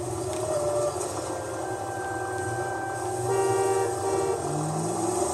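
City car traffic in the video game L.A. Noire, a continuous rumble of engines with passing vehicles and a brief horn-like tone near the end, steady and moderately loud with no voices.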